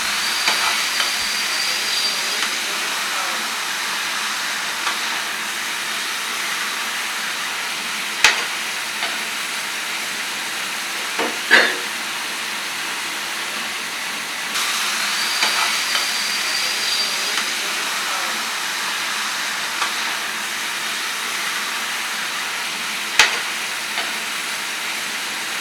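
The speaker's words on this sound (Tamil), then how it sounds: "இப்போ நல்லா பரட்டிக்கலாம்." Pepper chicken sizzles steadily in a hot pan while being stir-fried, a continuous broadband hiss with a few sharp scraping knocks of the utensil, close and fairly loud, with no talking.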